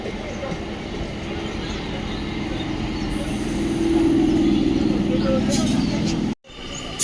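A passenger train arrives at a station by a vegetable market, rumbling steadily and growing louder as it draws in before a sudden brief break in the sound.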